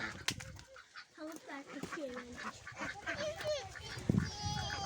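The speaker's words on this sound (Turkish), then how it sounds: "horoz seni kovalayacak" A rooster crows and clucks close by among other farmyard birds, with honking and bleating calls mixed in, while people talk over the scene.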